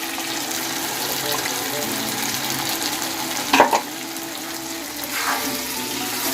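Chicken curry sizzles in the pan as a paste of cashews, raisins and tomato goes in, a steady frying hiss broken by a brief louder splatter and scrape partway through, with no talking.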